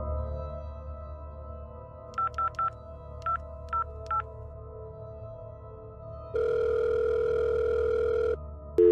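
A phone number is keyed in as a series of short beeping tones in quick groups over a low background hum, followed by a long steady ringback tone, then a brief burst at the end.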